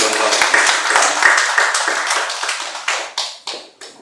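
A church congregation applauds during a Sunday worship service, a dense burst of hand clapping that gradually thins into scattered, separate claps over about four seconds.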